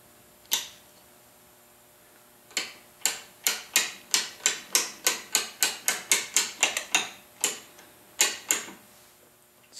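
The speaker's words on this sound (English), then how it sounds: "reverse the ratchet" Rapid ratchet clicks from a watchmaker's mainspring winder as the spring is wound back into its sleeve, a single click followed by a long, evenly spaced run of sharp, close ticks with a few gaps, alone.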